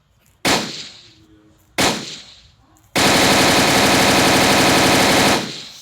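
An M4A1 rifle in a gun simulator video game fires two loud single shots, each with a ringing decay, then a sustained full-auto burst of rapid gunfire lasting nearly three seconds, close and dominant.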